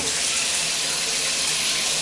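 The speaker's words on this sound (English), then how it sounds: "Very good water pressure. Draining beautifully." Hot water runs from a tap and drains away, a steady, full hiss of strong flow that holds constant and close throughout, with no voices.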